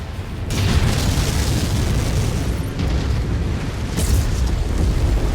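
Missile explosion in the MechWarrior 5 mech combat game, a dense roaring blast that rumbles continuously, loud and close, with a couple of fresh surges in the noise.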